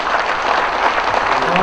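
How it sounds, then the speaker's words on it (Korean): Audience applause at the founding general meeting of a Seoul association, a dense, even patter of many hands clapping that stays loud and steady throughout. "다 같이 박수 한번 부탁드립니다."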